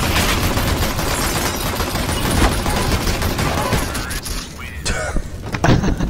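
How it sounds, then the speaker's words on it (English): Dual pistols firing in the video game CS:GO, a dense run of loud, close gunshots crackling over game noise with some voice chat, then a few sharper separate shots near the end. "Why is only one gun shooting on the dualies?"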